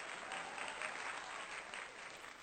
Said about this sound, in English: Give a round of applause for yourself, guys.